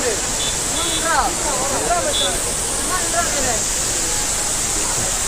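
Irachilpara waterfall in Marayoor pours down from a great height, a loud, unbroken rushing roar close by, while people chatter and call out beneath the water noise.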